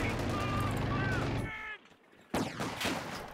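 Gunfire in a tactical tank-battle video game aimed at a retreating engineer: a single sharp, loud report that breaks in after a stretch of talking.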